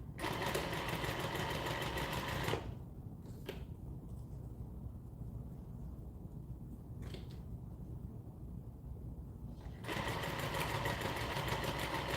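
A sewing machine stitches loudly over thick, layered seams of a cloth diaper in bursts of a few seconds, pausing briefly between runs with a softer mechanical whir in the gaps.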